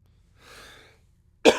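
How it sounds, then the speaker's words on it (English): A single sharp human cough rings out near the end, loud and close, after a soft stretch of breathing or rustle and otherwise quiet surroundings. "Are we going to edit this cough?"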